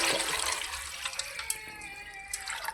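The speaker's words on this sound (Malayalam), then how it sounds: "അതിന് 2 കപ്പ് വെള്ളം ഒഴിക്കും." Water poured from a cup into a cooking pot, a close, bright splashing stream that tapers off into a few trickles and drips.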